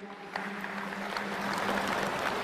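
An audience at a Buddhist gathering gives steady applause, a dense wash of many hands clapping at moderate volume that holds for a few seconds.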